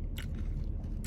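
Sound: crunchy bite of an Egg McMuffin stack with hash brown

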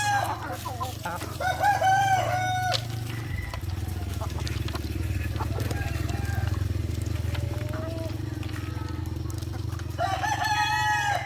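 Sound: chickens clucking and rooster crowing

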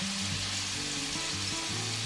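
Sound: salmon and shrimp frying in pan

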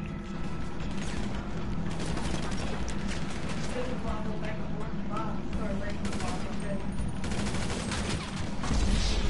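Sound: gunfire in GTA V video game

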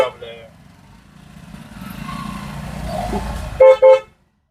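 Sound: vehicle horn honking

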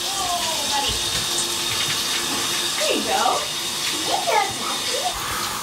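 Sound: water running to fill a bath for a dog

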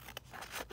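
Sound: trimming the edges of a leather pocket

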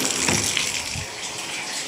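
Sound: shower running water

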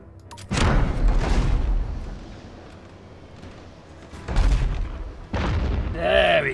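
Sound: ship cannons firing in video game Abandon Ship

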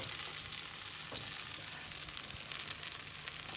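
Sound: potato pancakes (deruny) frying in oil

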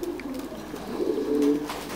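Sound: Thai Titan pigeons cooing

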